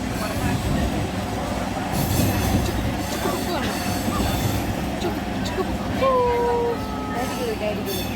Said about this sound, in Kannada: ಟ್ರೈನಲ್ಲಿ ಹೋಗ್ತಾ ಇದ್ದೀನಿ